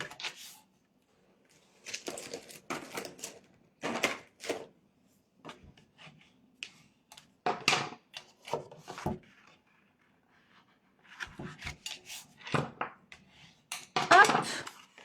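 Paper being creased to mark four folds for a handmade notepad holder: close, dry rubbing and scraping strokes in short irregular bursts, separated by quiet pauses.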